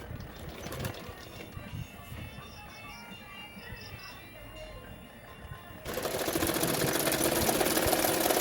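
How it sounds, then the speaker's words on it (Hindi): A sewing machine runs while stitching the folded back edge of a blouse, a faint, steady whir and patter that gives way to a louder, denser mechanical hum partway through. "उसको इस तरह फोल्ड करते हुए सिलाई कर लूँगी ताकि जो धागा है वो निकल ना जाए।"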